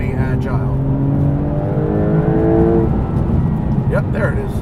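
A 2021 Porsche 911 Turbo S, 640 hp, accelerating on a mixed open and tight road, heard from inside as a loud engine note rising in pitch under a steady roar, with someone talking over it.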